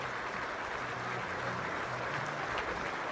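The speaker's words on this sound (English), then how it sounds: "as you see the Jackrabbit crowd applauding" A large Jackrabbit crowd at a South Dakota State versus Mercyhurst college football game applauds an injured player, producing an even, sustained wash of clapping from a big stadium audience.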